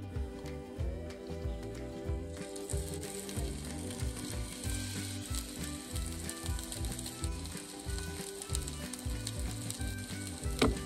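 Cauliflower patties fry in olive oil over medium heat in a pan, a steady close sizzle and crackle mixed with clicking, ratcheting utensil noises, with no talking.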